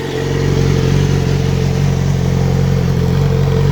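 A 2007 Yamaha R6 sport motorcycle with a short Shorty M4 exhaust idles loudly and steadily up close, a throaty, rumbling exhaust note with a slight rise in revs near the start.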